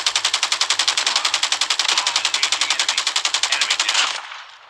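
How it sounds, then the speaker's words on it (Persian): Machine gun fire in Call of Duty: a loud, sustained automatic burst of evenly spaced rapid shots lasting about four seconds, then cutting off abruptly with a short fading tail. "یک انمی اینجا شلیک کرد بهمون"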